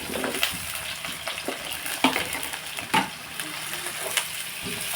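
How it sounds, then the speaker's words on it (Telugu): Chopped raw onions frying in a pan for a Sunday chicken curry, a steady crackling sizzle with a few sharper stirring clinks, moderately close and without talk. "ఉల్లిపాయలు ఉల్లిపాయలు వేస్తాం కదండి"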